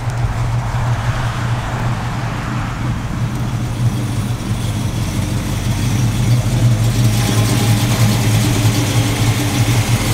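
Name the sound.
car engine idling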